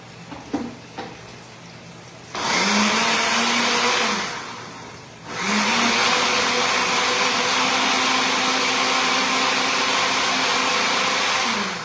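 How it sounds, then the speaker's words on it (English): A kitchen blender whirs loudly through onion, pepper and ginger in two runs, a steady motor drone pausing briefly before starting again, preceded by a few small knocks, with no voices. "So I'll go to blend this, my onion, pepper, and ginger."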